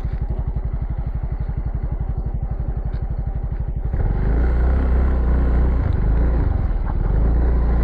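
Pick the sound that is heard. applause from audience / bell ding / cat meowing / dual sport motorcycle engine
dual sport motorcycle engine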